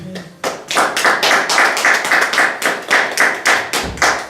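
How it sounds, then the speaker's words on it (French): A church congregation applauding in rhythm during a service, with steady, loud unison claps about four per second. "Acclamons pour le Seigneur."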